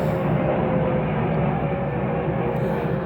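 Aircraft engine noise near Van Nuys Airport, a steady broadband rumble filling the whole stretch outdoors without any talk, like a plane passing overhead at moderate distance.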